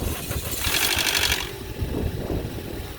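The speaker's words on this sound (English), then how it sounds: "it had intake cam gear rattle just like my wife's Corolla" An idling engine with a steady mechanical rattle and clatter from the intake cam gear, close up, with a brief higher whirring burst in the middle.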